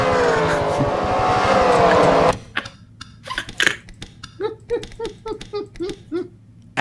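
Engines of race cars in a racing video game roar loudly for a couple of seconds, then drop away into quieter bursts of voices and short clattering sounds.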